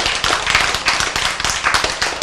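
Audience members at a Korean sermon clap together in a brisk, rhythmic burst, sharp individual claps layered densely and close.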